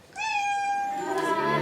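A cat gives one long, clear, drawn-out meow up close. It rises slightly, then fades into a softer, rougher tail.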